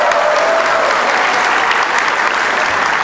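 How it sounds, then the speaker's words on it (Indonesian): Audience applause at a Maulid Nabi commemoration, steady and dense clapping from a large crowd that fills the whole moment without pause, loud and close. "Berikan tepukan untuk Pak Prof Kamarudin Amin dulu."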